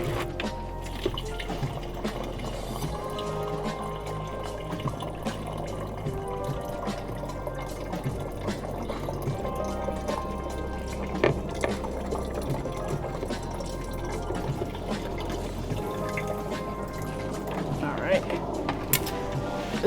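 Water runs from a rain barrel spout through an ordinary garden hose in a steady, low flowing wash, with a faint trickle continuing throughout.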